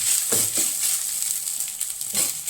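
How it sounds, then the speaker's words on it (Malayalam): Grated coconut roasting in ghee in a pan, a soft steady sizzle with a few stirring scrapes, close and continuous with no talking. "തേങ്ങ നന്നായിട്ട് വറുത്തെടുക്കണം"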